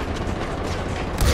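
Continuous machine gun fire in the Far Cry 4 video game, dense rapid rattling bursts filling the whole moment, loud and close.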